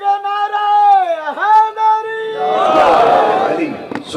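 A crowd at a religious mourning gathering for Imam Husain roars back a chanted slogan after a single voice calls it out in a long, drawn-out cry, the massed shout loud and reverberant.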